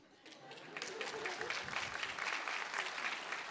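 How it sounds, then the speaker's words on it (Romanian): An audience at a stand-up comedy show claps on request, a rising burst of applause that stays steady and moderately loud throughout. "Să aplaude oamenii care știu piesa Cotton Eye Joe."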